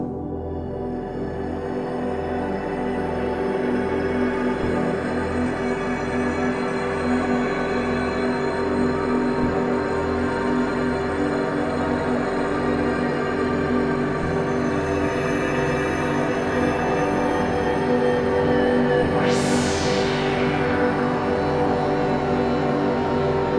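A dense, sustained drone of layered tones over a soft synth pad, steady and full throughout, with a sweeping high whoosh rising near the end.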